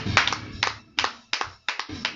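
During a midnight women's prayer gathering, hands clap in sharp, close bursts, about six strong claps at an uneven rhythm separated by brief silences, with no voices audible.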